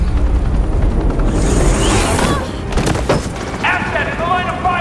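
Police gunfire in the video game Batman: The Enemy Within, a dense, loud volley of sharp cracks and booms that rips through a busy, noisy scene, with voices mixed into the din.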